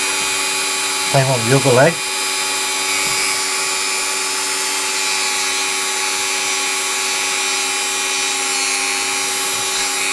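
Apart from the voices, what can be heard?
Dremel wire brush polishing a model locomotive bogie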